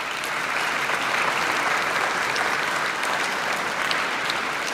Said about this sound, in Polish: Brawa dla szóstego liceum z Poznania.